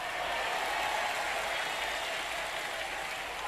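Steady broadband clapping from an audience at a humorous Islamic sermon, a dense even wash of applause filling the whole stretch without a break, fairly distant and moderate in level.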